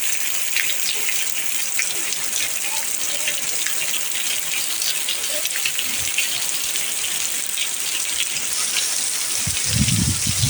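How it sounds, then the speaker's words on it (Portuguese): Heavy rain pouring steadily in the rural backcountry of Santana do Piauí's sertão, with wind, a dense continuous hiss throughout and a brief low thump near the end. "Minha gente, é chuva"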